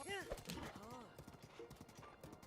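Horse hooves galloping in Zelda: Breath of the Wild, a quick steady clip-clop beat with a horse whinny near the start, running under a person talking over the game.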